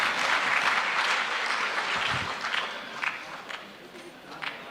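A large audience at a national conclave applauding, full and loud clapping with some crowd noise, which eases off slightly toward the end while a few sharper claps still stand out.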